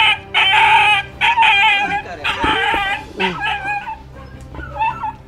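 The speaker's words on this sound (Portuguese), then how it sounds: "a situação do cachorrinho que foi tirado aí do cano" A frightened puppy just pulled out of a pipe whines and yelps in loud, close, pitched cries, while a rooster crows nearby and people talk throughout.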